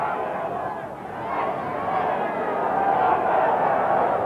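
Crowd at a Keighley v Salford rugby league match, a broad murmuring roar swelling and dipping in the background of a muffled old broadcast, with voices mixed in.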